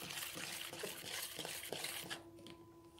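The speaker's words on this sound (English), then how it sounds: "I'm going to add already twice as much water again." Water pours into a container of homemade laundry washing liquid, a busy splashing gush with clinks that tapers off into quieter trickles near the end.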